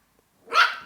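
A puppy at playtime lets out one short, sharp bark, close and fairly loud, after a brief near-silence.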